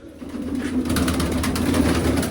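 A pigeon coos close by, a soft low warbling call repeated in a rolling rhythm over faint background noise.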